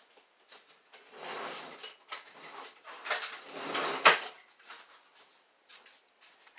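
A pizza cutter rolling through onion on a board, a series of soft scraping, crunchy strokes in uneven bursts, close and fairly quiet with pauses between passes.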